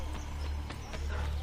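Horse hooves clip-clop up a stone staircase in the video game Assassin's Creed Brotherhood, a steady run of soft thuds under a loud, constant low game rumble.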